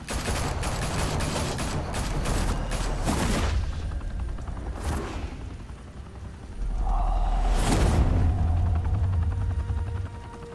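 Rapid gunfire bursts ring out in a Batman video game, the crackling volleys concentrated early and followed by a sustained low rumble, with no talking.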